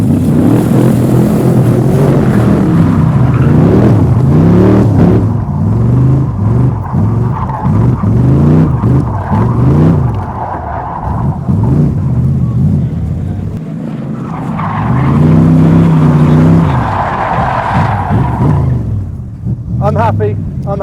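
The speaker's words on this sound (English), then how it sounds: "I was burning up those tyres." A car spinning its tyres during a drag race produces a loud engine rumble that rises and falls through repeated revs, heard under steady nearby talking.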